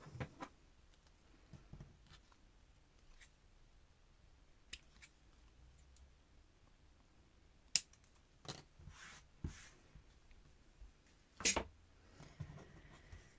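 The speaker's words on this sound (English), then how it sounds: "I am going to trim those down a little bit. I'm just going to make that bow a tiny bit smaller." Scissors trim a paper bow on a small Christmas craft project, a few quiet, sharp snips scattered among faint handling rustles in a near-silent room.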